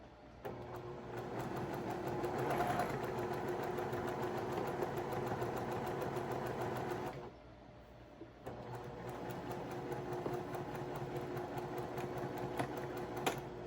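Sewing machine lock stitching fabric while sewing a pumpkin, a close, steady mechanical whir that pauses briefly midway before running again until the end.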